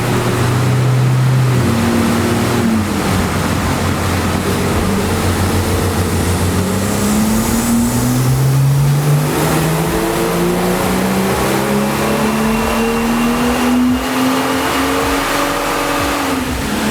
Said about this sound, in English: So we reinstalled the AWE axle back exhaust. We know it sounds good